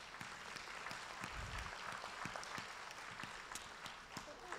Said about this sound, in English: I think you ought to give the Lord a hand clap of praise.